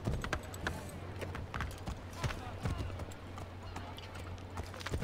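A horse gallops in Assassin's Creed III Remastered, steady repeated hoofbeats over a low background rumble, with a voice talking over the hooves.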